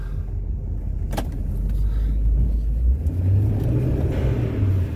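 GMC Topkick 4500 4x4 diesel truck plowing snow, a deep steady engine rumble up close that grows heavier and drones lower as the truck pushes a bank, with a short clank early on.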